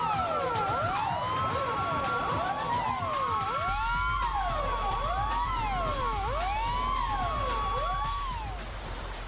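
Fire station alarm at the Chernobyl nuclear power plant: a loud wailing siren, several overlapping sweeping tones rising and falling in steady repeated cycles, with a constant low hum beneath and no voices.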